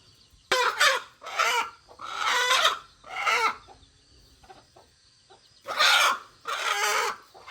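Hens on a farm cluck and squawk in loud bursts close by, several agitated calls with short quiet gaps between them and faint background rustle.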